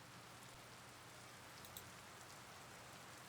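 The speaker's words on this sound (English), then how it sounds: "A long, dense drizzle of rain." Long, dense drizzle of rain falling steadily in a Tsukihime visual novel scene, a soft constant hiss with no voices over it.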